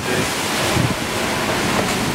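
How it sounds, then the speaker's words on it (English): Huge six-meter ocean waves surge around a sailboat heading toward the Canary Islands. They make a loud, continuous rushing roar of churning water, with heavy wind buffeting the microphone. "Those waves are insane."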